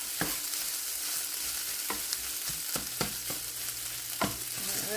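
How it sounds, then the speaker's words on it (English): Rice and egg being stir-fried in a pan, with steady sizzling throughout and repeated sharp scraping and tapping of a utensil against the pan at irregular intervals, close and fairly loud, with no talking. "Break up big chunks of the rice."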